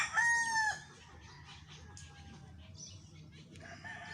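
A rooster crows loudly and close at the start, a bright drawn-out call, followed by fainter scattered clucks and chicken chatter over a quiet background.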